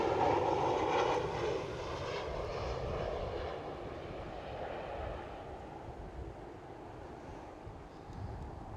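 Finnair airliner at Amsterdam Schiphol airport, its jet engines roaring loudly at first and then easing into a steadier, slowly fading drone, with wind buffeting the microphone.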